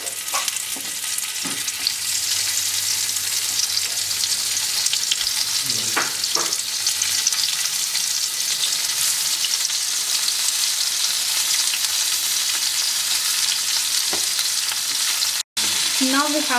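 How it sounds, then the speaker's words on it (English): Stuffed okra frying in hot oil over a low flame, a steady close sizzle lasting throughout with occasional stirring and utensil clinks on the pan. "Once the oil is heated, we have to fry it on a low flame."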